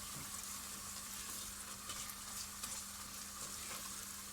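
Tomato paste sautéing in a pan for a traditional Erzurum haşo bean dish, a quiet, even frying sizzle with soft stirring scrapes throughout, no voices.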